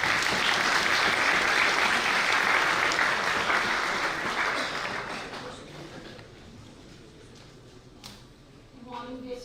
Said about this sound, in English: Let's welcome Dr. Shruti Sharma with a big round of applause.